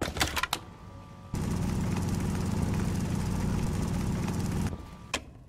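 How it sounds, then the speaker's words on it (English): A mega drill runs in the video game Stationeers, starting with a sharp burst and then a loud, steady mechanical whir for several seconds before it cuts off, with a few clicks at either end and no talk. "I'll use the mega drill."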